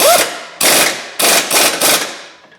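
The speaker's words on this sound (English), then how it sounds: "Now I'm going to run the back bolt in that holds that control arm in." Impact wrench running in the rear control arm bolt on a Chevy HHR during front suspension work, with four loud close bursts of rapid hammering separated by short pauses.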